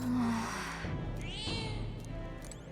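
A cat meows in the fantasy RPG Metaphor: ReFantazio, a short plaintive call followed by a rising second meow, set over steady game music.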